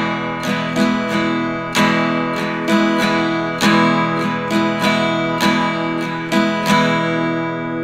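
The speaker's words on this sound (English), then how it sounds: "And we'll be learning two Latin-style strumming patterns." Acoustic guitar in standard tuning strummed in a Latin-style 3/4 pattern, bright full chords with crisp down and up strokes in a lilting repeating rhythm, close and loud with no voices.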